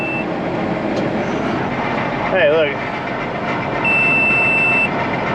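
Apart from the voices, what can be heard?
electronic beeping from a machine unloading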